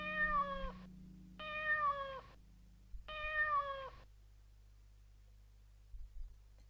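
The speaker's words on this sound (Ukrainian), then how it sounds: "Кіт нявкає." A cat meows three times in drawn-out, slightly falling cries with short pauses between, close and clear, followed by quiet.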